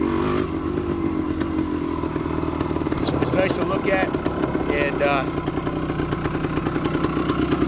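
A 1974 Yamaha DT250 two-stroke motorcycle idles and blips its exhaust nearby with a ringing, crackly burble and some clatter, while someone talks over it.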